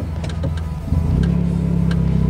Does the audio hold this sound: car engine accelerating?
yes